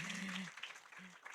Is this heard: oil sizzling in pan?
no